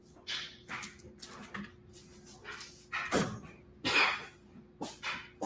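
A few short, dry coughs from someone close by, separated by brief pauses, with faint rustling and quiet handling noises in between.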